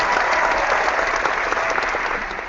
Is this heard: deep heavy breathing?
no